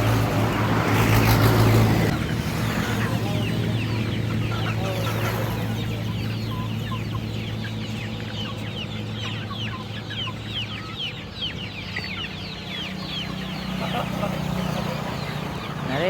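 Many chickens at a roadside chicken seller cluck and chatter continuously, close and busy, over a low steady engine hum, with a voice talking in the background.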